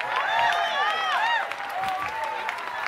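A church congregation claps and cheers during a celebration service, with lively whoops and excited voices rising over scattered clapping for a few seconds.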